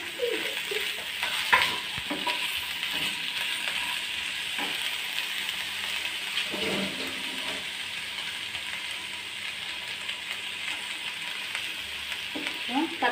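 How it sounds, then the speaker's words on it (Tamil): Tomatoes and onions sautéing in a pan for paneer butter masala, a soft continuous sizzle broken by occasional stirring scrapes and a few clinks, close and steady with no clear voices. "வெங்காயத்தை போட்டுட்டு இந்த கையால் இப்போ நம்ம தக்காளியை சேர்த்துக்கலாம்."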